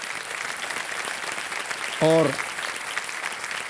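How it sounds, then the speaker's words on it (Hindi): A studio audience on the quiz show Kaun Banega Crorepati claps steadily in a dense, sustained round of applause that runs the whole time, with a host's brief spoken word cutting across it midway. "तालियां बज जाए इनके लिए"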